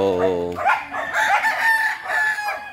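A rooster crows loudly nearby while hens cluck and chatter around it, a busy close-up farmyard sound.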